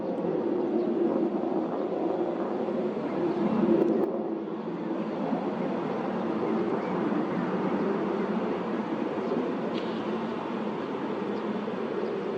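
A large airplane passes overhead above a shore on Korea's west coast, making a broad, steady, low rumble that carries evenly through the whole stretch.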